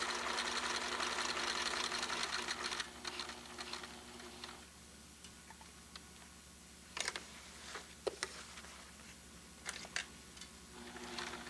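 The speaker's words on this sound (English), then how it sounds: "Then sew across." A sewing machine stitching across a shirt placket, heard as a steady whirring run at first and then short bursts of stitching with light ticks and pauses, close and fairly quiet.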